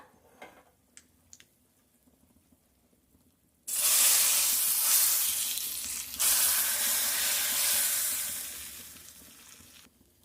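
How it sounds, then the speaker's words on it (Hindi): Quiet light clinks, then a sudden loud sizzle of tempering spices hitting hot oil for South Indian sambhar, a bright hissing fry that sustains for several seconds. "तो बस अब इनमें हम लगा लेते हैं तड़का।"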